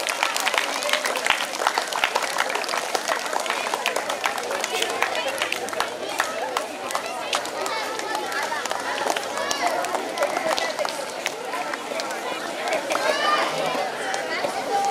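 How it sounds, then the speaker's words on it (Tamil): Audience at a school Pongal festival clapping for prize winners, a dense, continuous patter of hands mixed with crowd chatter and voices throughout. "கொஞ்சம் கைத்தட்டுங்க, கைத்தட்டி அவங்களை உற்சாகப்படுத்துங்க."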